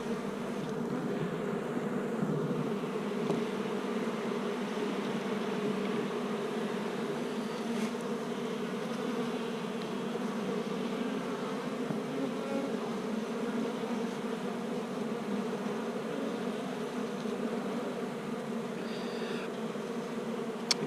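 Honeybees swarm around a hive, their dense, steady buzzing holding near and unbroken throughout with no voices.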